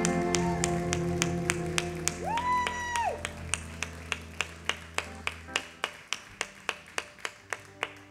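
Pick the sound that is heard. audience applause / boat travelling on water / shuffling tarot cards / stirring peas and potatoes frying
audience applause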